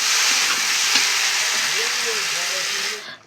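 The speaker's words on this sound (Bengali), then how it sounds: "এবার ক্যাঁকড়া আমার কষানো হয়ে গেছে এবার উপর দিয়ে আমি জল দিয়ে দেবো" Water poured onto crab masala already sizzling in a pan sets off a loud, steady hiss and bubbling steam that holds, then drops away abruptly at the end.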